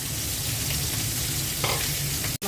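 Rohu fish heads frying in a pan, a steady crackling sizzle with a brief stirring scrape and a sharp clunk near the end, no talk over it.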